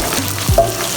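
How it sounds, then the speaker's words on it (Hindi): Green chillies sizzle and are stirred in a pan with browned onions while making chane ka madra, Kangri dham style, a short, close, steady frying hiss with a faint scrape of stirring. "उसको डाल के हम थोड़ा सा उसको हिलाएंगे"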